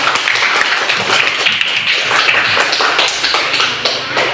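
A classroom of students claps their hands in a short, busy burst of uneven taps and claps, close and fairly loud, with some shuffling.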